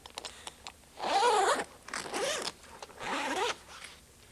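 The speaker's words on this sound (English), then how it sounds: "Release the Velcro flap and start to unzip them from the rear." A zipper rips open along the soft top side window of a Jeep TJ in three long, close, bright pulls, with small clicks and fabric handling between them.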